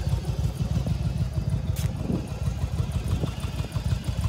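A 2002 Yamaha V-Star 1100 Classic cruiser motorcycle with 33,183 km idles close by. Its engine throbs in a steady, low, loping rhythm with no other sounds.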